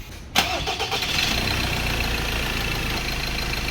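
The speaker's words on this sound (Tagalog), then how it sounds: "pandarin natin ang makina" A Ford Ranger 2.2 diesel engine with oil and water mixing cranks with a sharp start, then settles into a loud, steady idle rumble close by.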